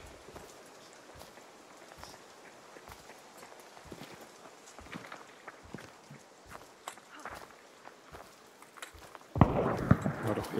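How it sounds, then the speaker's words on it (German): Footsteps in the video game Hunt: Showdown 1896 tread at a steady walking pace, faint and distant, before a louder rush of noise at the end. "Und das waren keine Zombie-Schritte."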